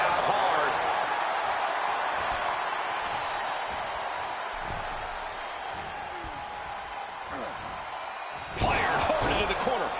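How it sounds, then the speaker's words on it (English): Wrestler in the video game WWE 2K26 slammed down hard onto the mat, a single heavy thud near the end against steady arena crowd noise and commentary. "Slammed down hard."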